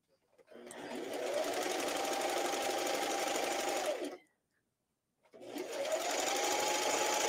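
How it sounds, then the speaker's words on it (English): A sewing machine stitching a hem with double-fold binding on knit fabric runs steadily with a close, even whir for several seconds, stops briefly, then starts again. "I'm starting at the side seam because that's a good spot to hide those stitches."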